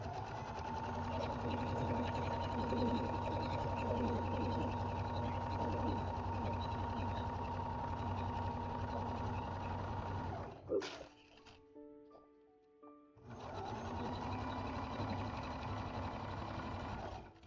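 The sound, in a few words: sewing machine basting stitches on a purse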